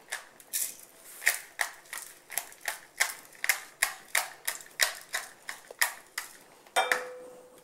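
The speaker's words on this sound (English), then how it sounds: "And I have my pepper ball here. I'm just going to crack some." A pepper ball grinder cracking black peppercorns in steady, sharp clicking bursts, about two per second, close and crisp against a quiet background.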